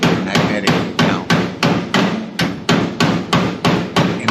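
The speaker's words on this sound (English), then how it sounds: "And as I'm hammering," Hammer striking a magnetic GoPro mount during floor pan rust repair on a Buick Riviera: about twelve sharp metallic blows in a steady, evenly spaced rhythm, loud and close.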